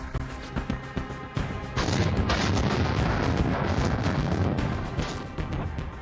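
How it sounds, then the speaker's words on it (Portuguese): Artillery firing cluster munitions in the war in Ukraine, starting with scattered sharp reports and then swelling into a loud, sustained roar of overlapping blasts that slowly eases off. "Os assassinos de Putin estão disparando munições de fragmentação."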